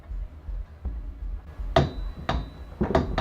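Bolts are tightened during assembly of a Honda D15B engine, producing several sharp metallic clicks and clanks close by over a low rumble, with the last few coming in quicker succession.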